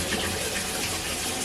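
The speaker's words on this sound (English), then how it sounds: "I think it's draining out" Water draining down a bathroom sink drain after a drain cleaner is used, a continuous close rushing gurgle that stays steady throughout the short stretch.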